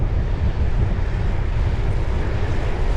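Steady wind roars and buffets the microphone as cyclists ride into a headwind on a cliff top road, a continuous broadband rush with no speech.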